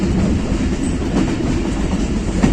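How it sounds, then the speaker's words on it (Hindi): Millat Express passenger train rolling past on a line toward Karachi, loud and close, a steady dense rumble of wheels on rails with faint clickety-clack, no voices. "ये आ गया सामने जनाब मिल्लत एक्सप्रेस, इस रूट से कराची जाती है।"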